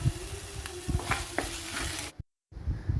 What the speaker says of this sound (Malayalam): ഈ സമയം നമുക്ക് ക്ലീനാക്കി വെച്ചിരിക്കുന്ന ഞണ്ട് നമുക്ക് ഇതിലേക്കിട്ട് ഇട്ട് കൊടുക്കാം